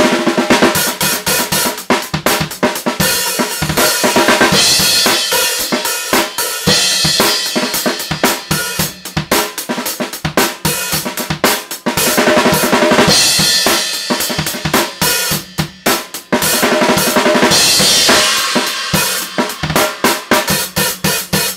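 A busy drum kit break beat plays continuously, with crisp hi-hat hits and punchy snare and kick accents in a steady, driving groove.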